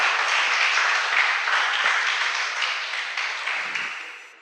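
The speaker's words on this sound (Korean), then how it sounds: "우리 수고하시는 두 분께 좀 박수 좀 주세요." A crowd at a Korean worship service claps steadily, a dense, even wash of applause that holds level and then slowly tapers off near the end, with no voices on top.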